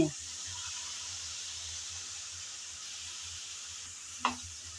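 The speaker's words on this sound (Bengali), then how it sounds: "সসের মিশ্রণটা দিয়ে ভালো করে আবারও মিশিয়ে নিতে হবে" Chicken chow mein noodles stir-fried in a pan with a sauce mixture added, giving a steady close sizzle throughout with a brief clatter near the end.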